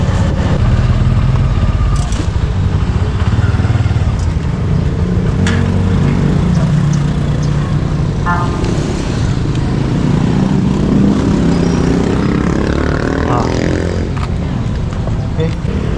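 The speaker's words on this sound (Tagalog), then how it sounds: "Kaso lang, napakaraming sasakyan." Busy road traffic in Bayombong, Nueva Vizcaya, with cars and motorcycles passing and idling nearby, a steady engine rumble and passing revs, and people talking over it.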